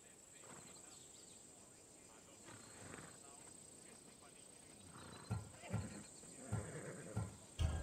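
A horse in a video game is heard faintly at first, then soft hoof clops and snorts grow louder over the last few seconds. A low steady hum sits beneath them, and a voice talks over part of it.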